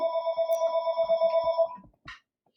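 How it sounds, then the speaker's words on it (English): A home landline telephone rings in the background with a steady electronic trill that stops after under two seconds, followed by a faint brief clatter, with no talking. "So there's that home phone ringing."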